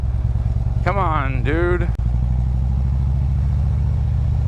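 Motorcycle engine idling and chugging steadily while riding uphill during a holiday ride through colonial Yorktown, a loud constant low rumble throughout with a brief spoken phrase over it.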